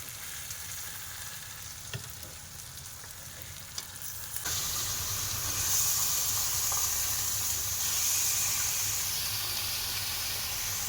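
Mutton pieces go into a pan of well-fried spiced masala in a Sundarbans village kitchen; a quieter sizzle jumps to a louder, fuller frying hiss partway through, with a few faint utensil clicks.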